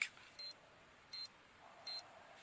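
Faint electronic beeping, three short high beeps evenly spaced under a quiet background.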